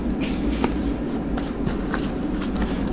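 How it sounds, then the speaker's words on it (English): Tarot cards being shuffled continuously, a soft, even rustle with faint light clicks of cards sliding against each other, close and without talk. "So we will continue to shuffle here and see what pops out for you."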